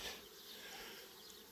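A honeybee swarm gives a dense, continuous buzzing drone of many bees, steady and unbroken, fairly faint and heard alone.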